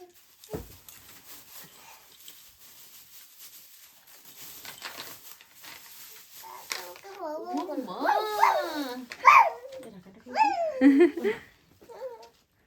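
A dog whimpers and then gives high, wavering yelps and short barks that grow louder toward the end, with people talking and laughing nearby during a family anniversary celebration at home.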